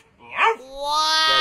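A human voice imitates a dog, giving one short yelping bark and then a rising, drawn-out howling whine, close and fairly loud.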